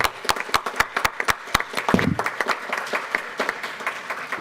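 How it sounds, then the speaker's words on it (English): Audience at a school board meeting applauding their president: a lively round of sharp, closely spaced claps from a room full of people, with a brief murmur of voices partway through. "Round of applause, ladies and gentlemen."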